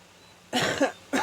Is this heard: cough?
yes